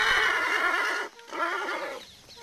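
A horse at an Arabian and thoroughbred breeding stud whinnies loudly and close, in a long wavering neigh, then gives a shorter second call after a brief pause.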